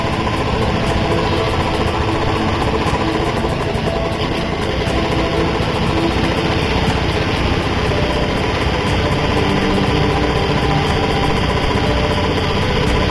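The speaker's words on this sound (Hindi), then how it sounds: "हम लोगों का ही बाइक जा रहा है" A motorbike riding along a road through dense forest, its engine giving a loud, continuous, steady drone close by, with no talk.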